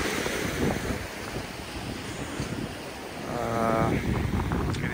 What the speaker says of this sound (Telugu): ఈ అలలు వస్తున్నాయి.